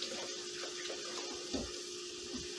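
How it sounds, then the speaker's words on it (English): Water runs from a kitchen sink tap onto rinsing hands, a steady close hiss and splatter with a few sloshing bursts, no talk. "There, rinse my hands."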